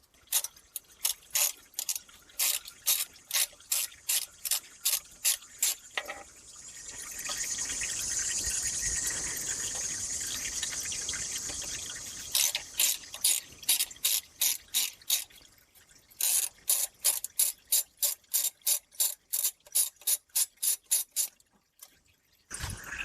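A ratchet wrench clicks in fast, steady runs while backing out the transmission pan bolts on a Chrysler Town and Country or Dodge Caravan with a 62TE transmission, close and clear, broken by a stretch of hissing spray or pouring noise.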